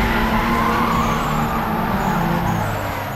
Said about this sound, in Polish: Kurde, ale piszczą te opony.